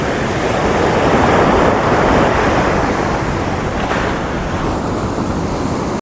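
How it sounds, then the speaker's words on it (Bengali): Large ocean waves crash and roll continuously on Puri beach, a loud, dense roar of surf with wind buffeting the microphone and no voices. "মানে কি বিশাল ঢেউ"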